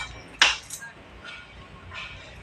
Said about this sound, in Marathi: आता मी गॅस घालवते आणि ढवळत राहते